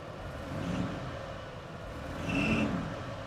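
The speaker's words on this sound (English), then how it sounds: "Got a little belt squeak going on, but we just turned this car on" A cold-started Chevrolet El Camino engine idles steadily at moderate level, with a faint high belt squeak chirping twice over the running motor.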